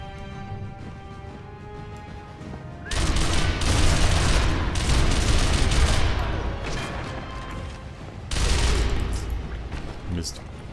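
Gunfire in the video game Sniper Elite V2, loud bursts of rapid automatic fire and heavy shots in two sustained volleys, with a quieter stretch of ambient game sound and music between them.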